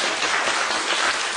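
An audience in a concert hall claps for two singers at a karaoke vocal group concert, a dense steady burst of applause that fills the short moment without talk.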